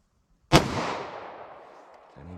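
A single sharp gunshot from a 5.3-inch Glock chambered in .45 ACP+P, loud and close with a long decaying echo tail, standing alone.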